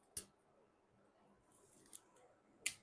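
Scissors snipping through eucalyptus stems while trimming them long for a fall wreath, a few sharp isolated cuts spaced apart, close and quiet with soft handling noise between.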